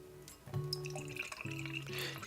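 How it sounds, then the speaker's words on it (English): Rifleman's Ration brown ale from Black Creek Brewing poured into a tulip glass, a short close liquid trickle and splash with steady background hum, no talking. "Now let's give her a nice pour."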